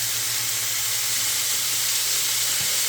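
Garlic sizzles in a pan of melted butter, a steady, bright frying hiss that holds evenly throughout with a faint low hum beneath.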